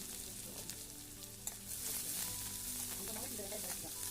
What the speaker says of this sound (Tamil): ரெண்டு பெரிய வெங்காயம் கட் பண்ணி வச்சுருக்கோம் அதையை போட்டு நல்லா வணக்கி விட்டுக்கலாம்